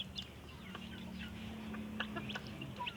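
Chickens cluck in short, scattered calls over a steady low hum, fairly close, with no talking.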